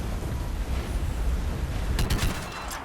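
Weapon fire in Mass Effect 3, a three-round burst rifle, crackles in loud bursts over a dense, noisy wash of combat ambience, with sharper clustered shots near the end.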